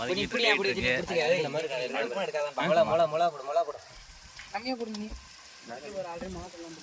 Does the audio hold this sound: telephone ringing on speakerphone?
no